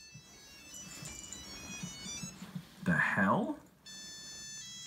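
A phone rings with a steady electronic tone repeating in the background, quiet and close, while someone speaks over it and a louder exclamation briefly covers the ring.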